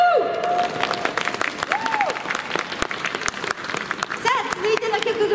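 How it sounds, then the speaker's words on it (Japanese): Audience applauding at a Christmas music show in the Daimaru shopping passage, a dense, steady wash of clapping filling the space over several seconds, with a sung or played tone and some voices cutting through on top. "皆さんもう一回拍手"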